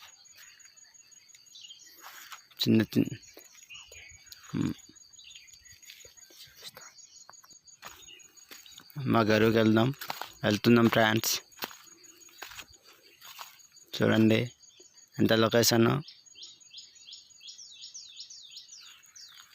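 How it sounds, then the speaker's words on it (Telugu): Birds chirp in the morning on a farm, with thin high calls running steadily in the background and a burst of quick chirps near the end, while someone speaks intermittently in short phrases. "మార్నింగ్ పూట అంటే పక్షులు సౌండ్స్ బ్యూటిఫుల్గా వస్తుంటుంది"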